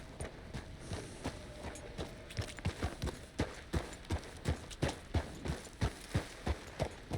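Horse hooves clip-clop in Red Dead Redemption 2, a steady series of distinct, fairly close hoofbeats gaining in force as the horse climbs, with no talk over them.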